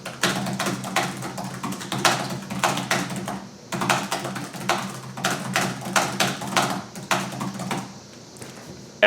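Rapid typing on a ThinkPad T420 laptop keyboard, with bursts of crisp clicking keystrokes and brief pauses between them, heard close up and alone.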